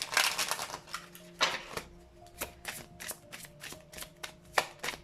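Tarot cards being shuffled by hand, a run of crisp riffling flicks and soft slaps in quick irregular bursts, close and fairly quiet, with no talking over them.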